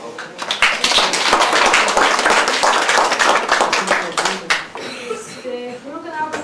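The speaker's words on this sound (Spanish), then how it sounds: "Un aplauso, por favor." A crowd applauds loudly and steadily for several seconds, the clapping thinning out toward the end.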